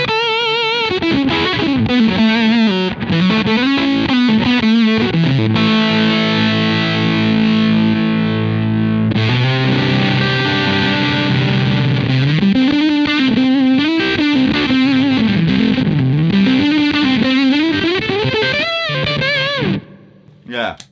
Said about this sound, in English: It's almost like a distortion, almost, you know, not distortion fuzz.